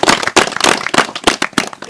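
A crowd at a district gathering claps loudly and close, a dense burst of sharp, uneven hand claps that keeps up without pause.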